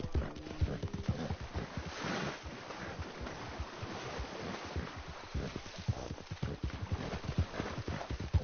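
Horse hooves clip-clop in Red Dead Online as a big, sturdy horse rides through water, a fairly quiet, continuous trot with splashing and a wind-like wash around it.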